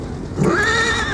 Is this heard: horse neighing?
yes